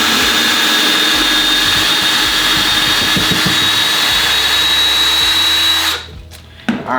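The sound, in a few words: Ryobi drill pulled out of drilled hole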